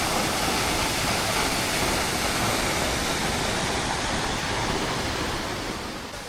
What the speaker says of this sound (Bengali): এই হচ্ছে সেই ঝর্ণা